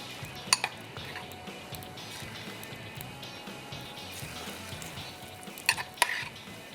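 Pieces of Manchurian frying one by one in hot oil, a steady soft sizzle running throughout, with a few sharp clinks of a utensil against the pan near the start and end.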